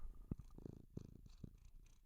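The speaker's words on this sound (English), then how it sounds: "This is my kitty" A pet cat purring close by indoors at home, a soft low rumbling in several short bursts across about two seconds, quiet and unaccompanied by talk.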